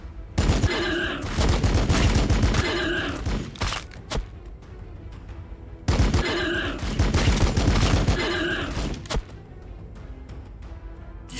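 Loud, dense bursts of gunfire and explosive fire from the Warhammer 40k Battlesector strategy game, two long sustained volleys separated by a brief lull, with thuds and sharp impacts filling the mix.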